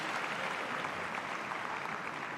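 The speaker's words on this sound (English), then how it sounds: "As we see the Canadian team cheering them on" Applause from an arena crowd for a junior pairs figure skating short program at the world championships in Debrecen, a steady dense clapping that continues without a break.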